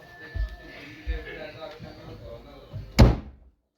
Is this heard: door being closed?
yes